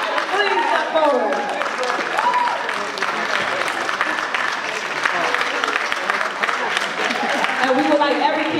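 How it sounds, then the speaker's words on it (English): An audience at a Louder Than A Bomb poetry slam applauds a team on stage with sustained, loud clapping, while voices and cheers rise over it near the start and again at the end. "Please get all of your applause."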